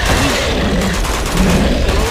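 Gunfire in the video game Uncharted 2, a dense, continuous clatter of shots under a loud battle din throughout, with no clear separate bursts.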